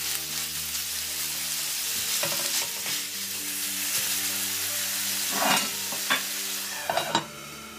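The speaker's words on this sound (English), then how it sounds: "I'll add in my minced beef. I'll give it a nice stir and cook it till it changes its color." Minced beef sizzling and frying in a pot while a utensil stirs it, a steady hiss with a few sharper scraping strokes near the end.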